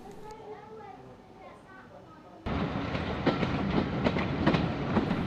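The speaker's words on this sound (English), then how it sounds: "the train continues for about 5 miles to Leicester North" A train on the Great Central Railway, first a quiet stretch with a voice and other speech, then a sudden loud rumble with rattling wheel clicks as the carriage runs along the line.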